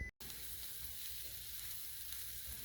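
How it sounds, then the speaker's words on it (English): A skillet of onions and diced garlic frying for spinach lasagna holds a quiet, even sizzle after a brief dropout at the start, faint and steady with no talking. "those onions are browning. I've also got some diced garlic in there"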